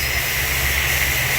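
Machine spindles spinning at 3,000 to 4,000 RPM give a loud, steady mechanical whine with a constant low rumble underneath, close and unbroken throughout.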